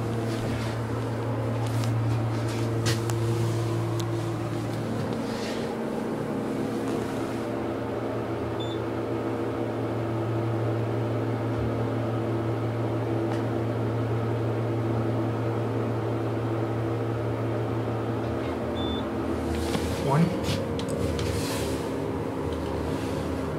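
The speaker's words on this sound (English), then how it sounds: "This is the elevator at 100 Ring Road," Hydraulic elevator running at 100 Ring Road, Garden City, New York: a steady low motor hum and airy drone for most of the ride, then stopping with a soft mechanical clunk and door movement near the end.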